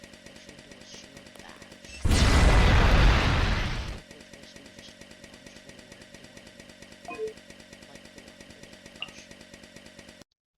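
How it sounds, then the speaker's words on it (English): Chainsaw ability firing in the Star Wars Battlefront game: a loud, dense two-second burst of rasping chainsaw roar that cuts off sharply, then quiet game ambience with a faint click and a short thump. "next ability is R, which now has an ability with the chainsaw."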